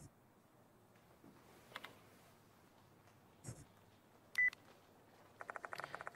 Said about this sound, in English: The sound of a phone vibrating echoes in the room.